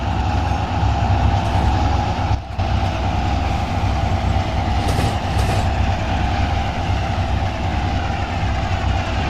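A train in the Trainz 19 railway simulator rolls past steadily and loudly, a continuous rumbling wagon noise with faint clickety-clack under it, briefly dipping once.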